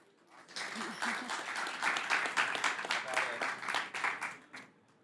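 Conference audience applauding its speakers, a steady wash of many hands that swells and then tapers, heard in a hall after the session ends.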